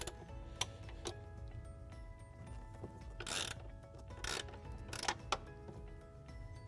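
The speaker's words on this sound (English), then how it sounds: "With a 1/2-inch wrench, we will loosen the pivot shaft" A half-inch wrench loosening the pivot shaft on an Envoy lane machine squeegee, with faint metallic ticking and ratcheting clicks and a few brief louder scraping bursts against a quiet mechanical background.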